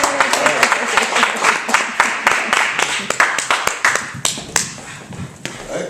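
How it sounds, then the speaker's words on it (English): Audience applause after a poetry reading in Jamaica, Queens: steady, dense clapping from a room of listeners, with a few louder individual claps standing out through the full stretch. "Again, a round of applause for Mr. Simmons."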